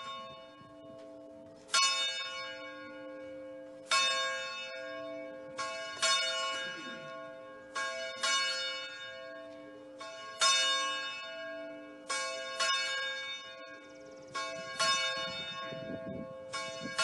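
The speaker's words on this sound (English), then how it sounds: "We begin our worship service with the ringing of the church bell." A church bell tolls slowly and steadily, about one strike every two seconds, each ring resonating and fading, heard from a moderate distance.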